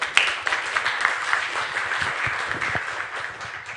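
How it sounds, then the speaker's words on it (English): Applause from an audience at an academic conference session thanking the afternoon speakers, moderate clapping that fades gradually over a few seconds. "Let's give them a big applause."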